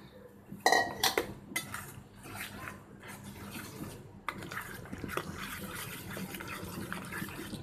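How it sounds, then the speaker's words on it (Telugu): Curd is stirred into a chutney of snake gourd with a spoon, giving soft scraping, clinking strokes against a bowl, a few sharper clinks near the start, then steady mixing noise. "ఇది వేసేసి కలిపేసుకోవటమే."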